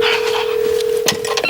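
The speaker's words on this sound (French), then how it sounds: "Le téléphone sonne." A telephone rings with a single steady electronic tone held for over a second, loud and close, with faint clicks and rustle around it.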